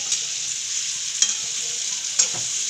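Capsicum and peanuts stir-fry in a pan, giving a soft continuous sizzle with two or three brief scrapes and taps of a spoon, fairly quiet and without any voice.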